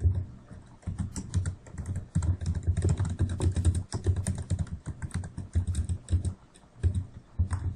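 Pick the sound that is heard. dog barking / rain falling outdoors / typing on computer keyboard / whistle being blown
typing on computer keyboard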